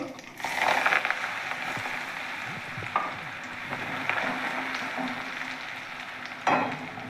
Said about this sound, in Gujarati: એ મસાલાને આપણે પહેલાં વઘારવાનો છે